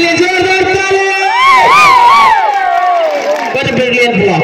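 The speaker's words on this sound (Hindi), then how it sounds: "जोरदार ताली" A crowd at a volleyball match cheers and whoops loudly after a block, a dense roar of many voices with rising shouts swelling in the middle and tapering off, with a commentator's voice mixed in.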